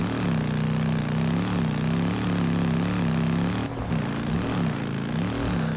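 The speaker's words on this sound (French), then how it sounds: "C'est ma moto qui fait ce bruit?" A motorcycle engine in the video game Days Gone runs steadily with a low, wavering drone that holds for the whole stretch, briefly dipping once near the end.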